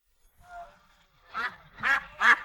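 Ducks at a market stall give a quick run of three loud, nasal quacks close by, following a softer, fainter call, with no talking over them.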